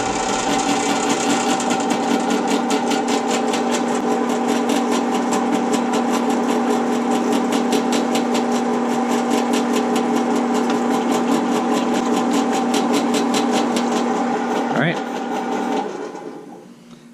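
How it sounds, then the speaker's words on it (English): A drill press runs steadily, boring a hole through thin aluminum for a Corvette coilover adjuster part, with a loud continuous motor whine and rapid rattling hum that winds down at the end, a voice talking over it. "we're gonna be drilling this hole perfectly"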